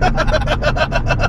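A modified Toyota Prius engine at full throttle, a steady loud drone with a rhythmic pulsing roar, close and continuous with no talk over it.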